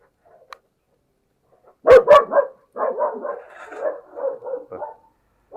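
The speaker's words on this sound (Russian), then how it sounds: "собачки" Dogs bark in a quick burst of several loud, close barks, followed by a longer run of softer, rapid barks and yips, with no talking.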